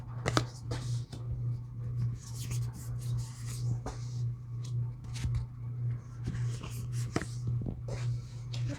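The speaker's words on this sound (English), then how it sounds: "I continuously shuffle as I do the reading." Tarot cards are shuffled continuously by hand, giving soft papery riffles and clicks in uneven bursts over a low steady hum.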